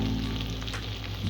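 Spice masala with turmeric sizzles steadily in a pan over a medium-low gas flame while cooking for jackfruit curry. The frying hiss is close, continuous and loud, with no talking.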